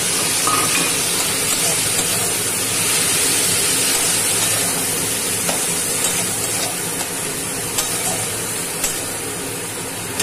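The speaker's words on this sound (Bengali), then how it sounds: "এটা সিদ্ধ হওয়ার জন্য এর মধ্যে একটু জল দিয়ে দিলাম" Loud, continuous sizzling hiss as water meets hot oil and spices for a potato and katla fish curry, steady throughout with faint clatter.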